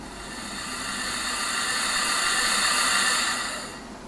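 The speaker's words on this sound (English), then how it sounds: "Oh, it's raining." Rain hisses steadily in Train Simulator 2016 around the cab of a BR4F steam locomotive, a soft, even wash that swells gently and then tapers toward the end.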